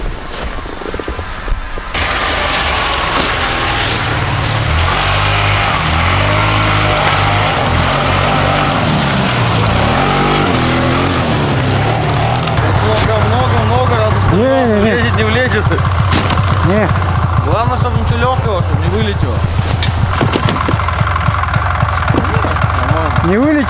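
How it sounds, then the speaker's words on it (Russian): Snowmobile engine humming steadily as it approaches across snowy ice while ice fishing, a continuous mid-distance drone that grows fuller over time, with people talking at times. "Вон, кажись, мой снегоход едет."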